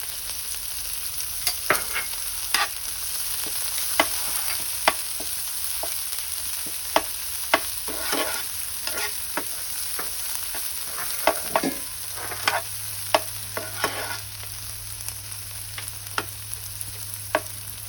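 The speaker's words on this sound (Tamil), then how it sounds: "கருவேப்பிலை போட்டதும் கொத்தமல்லி தழையும் கூடவே போட்டுடலாம்." Curry leaves and coriander leaves fry in hot oil with a constant bright sizzle, while a spoon taps and scrapes the pan in scattered strokes throughout.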